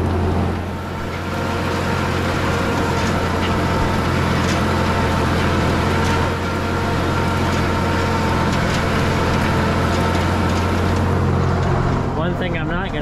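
A Ford TW25 tractor pulls a chisel plow through soil in fourth gear, a loud constant low diesel drone with steady mechanical rattle, close and continuous, with talk faintly over it.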